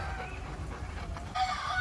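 Chickens cluck on a farm where ducks and many dogs are also kept, with a few soft calls and one brighter clucking burst near the end over a steady outdoor background.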